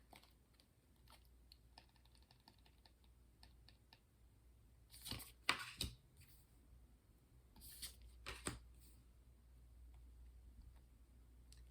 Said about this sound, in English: We're going to pull the last 3 from the top of the deck.